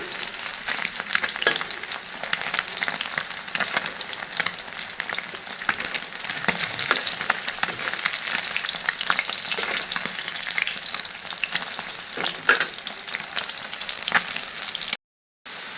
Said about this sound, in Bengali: মাছটাকে একটু ভেজে নিলাম